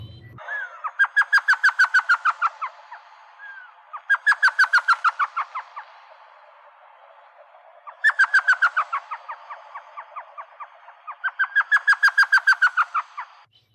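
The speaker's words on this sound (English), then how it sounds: "it sounds sort of like mysterious laughter in the dark, and that's actually why they're called elf owl" Repeated bursts of rapid, high, chattering yelps from an elf owl, each burst speeding up then trailing off, four bursts separated by short quiet gaps.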